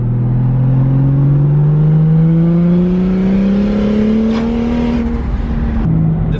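A big-turbo BMW engine roars loudly and steadily as the car spins donuts, its pitch climbing slowly with revs before a brief shift near the end, close and continuous.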